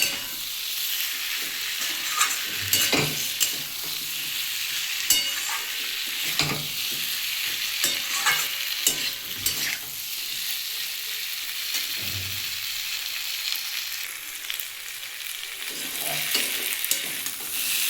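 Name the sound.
frying and stirring boiled elephant foot yam in oil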